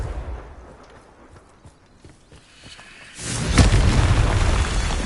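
Confringo blasting-spell explosion in a Harry Potter game, a quiet stretch of soft shuffling then a single loud, heavy boom that bursts in and rumbles on to the end.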